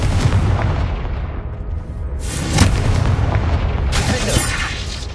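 The Confringo fire spell explodes in Hogwarts Legacy as a loud, close, rumbling boom that swells again a few times over a continuous heavy roar.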